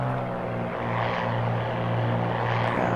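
Steady, loud drone of a small propeller airplane's engine in a flight simulator game, holding an even tone for the whole stretch with no voices.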